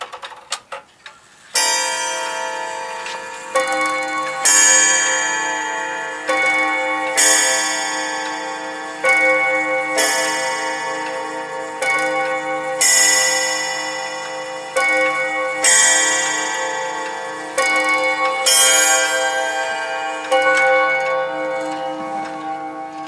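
An antique late-1800s clock chimes a long series of rich, bell-like strikes, about a dozen evenly spaced tones, each ringing out and fading before the next, loud and close.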